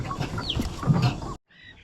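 Kadaknath rooster and Brahma hen clucking close by, a short burst of throaty hen and rooster calls that stops abruptly.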